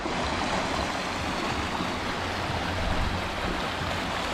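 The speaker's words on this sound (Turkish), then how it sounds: "Böyle derin aslında böyle küçük aksa bile çok coşkun akıyor" The Beğere river near a forest trail rushes swiftly in a steady, loud broadband roar of flowing water, close and continuous with no voices over it.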